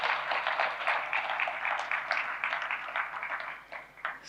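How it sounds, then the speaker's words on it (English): Audience applauding after a movie premiere, a dense, sustained clapping from a crowd that fades slightly at the end. "Big round of applause, ladies and gentlemen."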